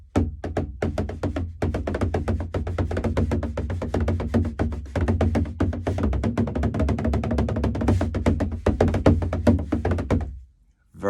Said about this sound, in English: you'll follow through very, very slightly, and that'll bring the other end in